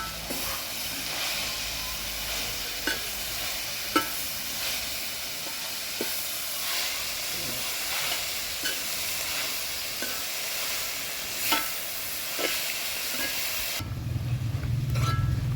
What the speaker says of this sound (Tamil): இந்த மணத்தக்காளி கீரை நல்லா வதங்கிட்டு இருக்கு